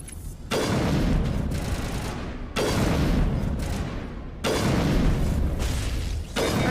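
Rocket fire amid gunfire during a Mass Effect firefight: three long, loud blasts of dense weapon fire and booming roar, each cutting off abruptly, with brief quieter gaps between.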